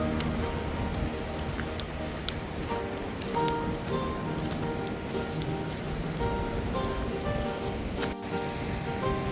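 A river rushes beside a footbridge on the Langtang trek in Nepal, a steady broad wash of flowing water that holds evenly throughout.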